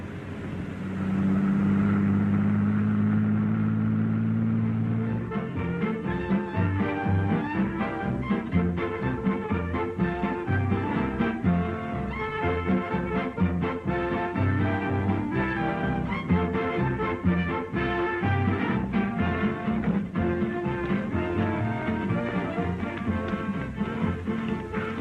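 A bus engine rumbles close by as the vehicle pulls in, a steady low motor drone with uneven revving pulses that carry on for the whole stretch, with no voices over it.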